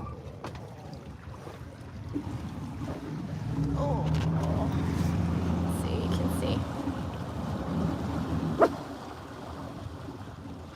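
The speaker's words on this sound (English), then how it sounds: "I think I hear the Harbor Patrol boat coming." A harbor patrol boat's engine drones nearby, growing louder and humming steadily under wind noise, while people talk briefly and a sharp knock sounds near the end.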